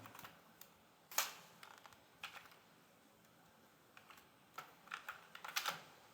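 Keystrokes on a computer keyboard while code is being typed, sparse and quiet, coming in scattered clicks and short bursts with pauses between them.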